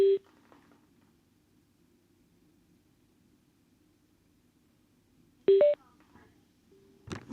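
EJEAS X10 motorcycle intercom giving short electronic pairing tones: one brief beep at the start, a longer double-toned chime around five and a half seconds, with quiet background hiss between.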